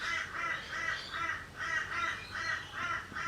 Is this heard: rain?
no